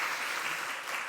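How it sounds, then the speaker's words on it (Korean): Church congregation clapping during a Sunday worship service, a steady dense wash of many hands applauding together throughout, close and fairly loud with no talk over it. "우리 박수하시겠습니다."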